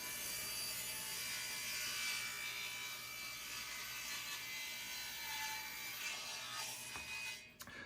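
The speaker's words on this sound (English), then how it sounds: "Time to cut some tapers." Tapers are cut into wooden boards for a sturdy sandbox, a steady continuous rasping saw noise held for several seconds that ends in a final scrape and stop.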